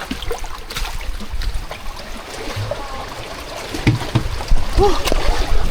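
Water sloshing and splashing against a small boat in strong waves, irregular lapping bursts up close, with voices talking intermittently over the sound.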